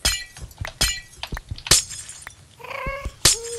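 Ghasts in the Minecraft Nether let out high, wailing cries and shrieks mixed with short in-game clicks and hits, several sharp bursts close together, with no talking.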